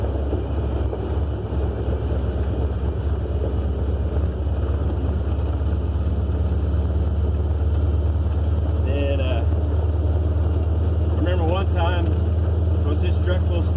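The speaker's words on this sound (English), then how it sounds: "it's nice just to cruise on the gravel road with these trucks" Trucks cruise along a gravel road, a steady low engine drone and tire rumble heard from inside the cab with constant wind buffeting, and a faint voice near the end.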